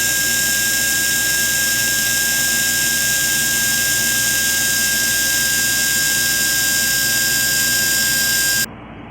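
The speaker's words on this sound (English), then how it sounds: "made sure to do an unloaded wheel speed test on the bench" A Torque Beast X30K motor in an SCX24 RC crawler, on a 3S battery, spins its wheels unloaded on a bench with a loud, steady high-pitched electric whine that cuts off abruptly just before the end.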